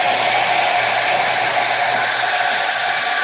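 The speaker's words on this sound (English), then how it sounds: "So I'll take my hair dryer and I'll just blow dry them really fast." Hair dryer blow-drying freshly applied 3D fiber eyelashes, a continuous loud whirring hum with steady airflow hiss, close to the microphone and alone.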